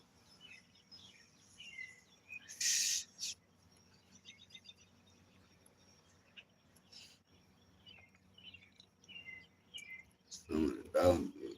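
Small birds chirp and trill in short scattered bursts at moderate distance, faint over a low steady hum, with a louder burst of noise near the end.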